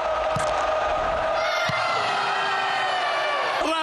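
Stadium crowd at a Juventus–Torino derby roaring and cheering a Juventus goal, a dense sustained wall of voices that swells with whoops and a rising chant.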